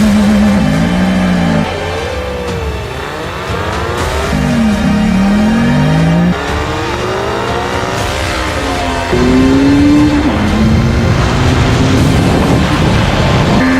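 A Yamaha R1 and a Suzuki GSX1400 motorcycle accelerate hard side by side in a roll-on race, their engines revving loudly with rising pitch sweeps that drop at each gear change and climb again, the roar continuous and close for the whole stretch.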